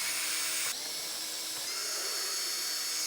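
A high-pitched power tool whines while removing T25 bolts on a 2025 BMW S1000RR, a steady close whir that shifts tone abruptly twice as the bit loads and releases, no talking.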